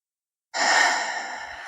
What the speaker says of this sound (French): Encore une belle respiration.